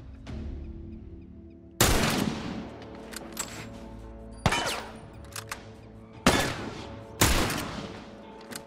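Gunfire in the video game The Last of Us: four loud, sharp shots spaced a couple of seconds apart, each with a quick decay and echo, over low ambient game sound.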